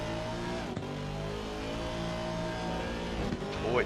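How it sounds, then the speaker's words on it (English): Race car engine at high revs lapping Bathurst in Assetto Corsa Competizione, with a continuous strained tyre squeal from the rear tyres layered over the steady loud drone, a sharp gear shift near the start and another near the end. "it does sound like the back tyres are screaming out with pain inside this car"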